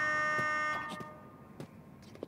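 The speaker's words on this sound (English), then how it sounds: "Whoever triggered that alarm is inside." An electronic alarm blares in the Star Wars Outlaws video game: a steady buzzing tone for under a second that cuts off, followed by faint scattered thuds and clatter.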